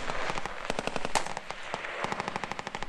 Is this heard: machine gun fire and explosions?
yes